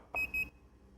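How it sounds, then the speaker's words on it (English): A handheld TPMS programmer beeps twice in quick succession after reading a tire sensor's ID, two short, clear electronic tones close to the device. "The programmer will beep twice when it's successfully read the sensor's ID number."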